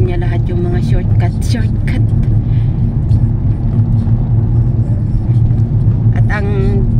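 A vehicle rolls along a fog-bound road on an early morning commute, with a loud continuous engine rumble and tire noise, while people talk over it in short bursts.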